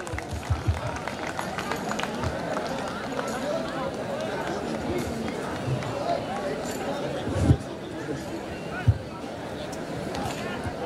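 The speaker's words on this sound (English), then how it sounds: "May we have a huge round of applause," Sustained applause from a college audience at an annual cultural festival in Haldwani, a dense, even clatter of many hands with crowd murmur underneath and a couple of sharp louder bursts partway through.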